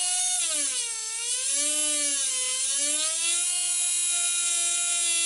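XKK170 RC helicopter motor and ESC whine steadily with poor throttle response, a close, loud, continuous electric whir that dips and rises in pitch as the throttle is moved, then holds steady.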